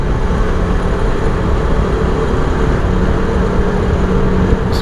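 Steady, loud motorcycle engine rumble with heavy low-end drone, reverberant in a road tunnel on the Karakoram Highway, continuous throughout with no talking.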